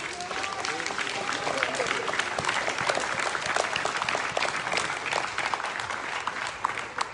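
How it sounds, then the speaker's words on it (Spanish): A church congregation applauds in dense, sustained clapping that fills the room for several seconds, with voices mixed into the crowd noise. "Démosle un aplauso a esta familia."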